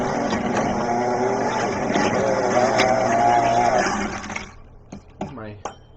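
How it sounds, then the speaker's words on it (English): A motorized drink mixer whirs steadily and loudly for about four seconds, then cuts off, leaving a few faint clinks and rattles. "My mixer might need a tune-up."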